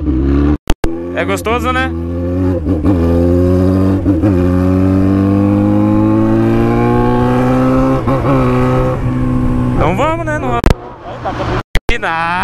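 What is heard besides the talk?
car engine revving and accelerating, hitting the rev limiter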